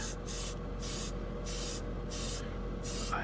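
Airbrush at 20 psi spraying thinned Revell enamel paint on a scale model, a close, loud hissing rush that pulses on and off about five times in quick bursts.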